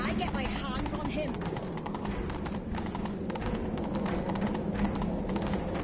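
The horse Roach galloping in The Witcher video game, a steady, fast drum of hoofbeats under game speech and background noise.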